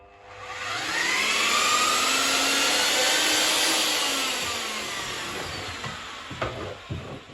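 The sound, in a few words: Tecmix TMX Pro electric paddle mixer spinning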